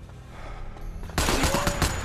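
Rapid bursts of gunfire ring out in the virtual reality shooter Sniper Elite VR, starting abruptly halfway through and continuing as loud, dense, crackling shots close by.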